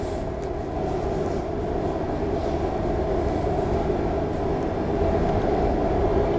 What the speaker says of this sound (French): C'est un vrai train.